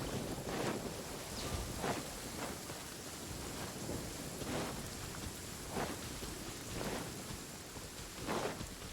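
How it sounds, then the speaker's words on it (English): Heavy rain pours continuously with gusts of wind in Genshin Impact, and low rumbles of thunder roll in now and then beneath the downpour. "Taking a stroll in the middle of a downpour certainly rouses the spirit."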